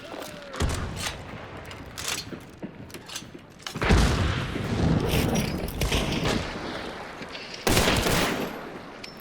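Gunfire in the video game Hunt: Showdown: three loud, booming bursts of rapid shots, each separated by a few seconds of quieter rumbling and mechanical game ambience.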